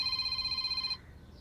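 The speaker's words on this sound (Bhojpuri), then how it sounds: "फोन बाजता" A telephone rings with a steady electronic trill for about a second, then cuts off, leaving quiet room tone with no talking.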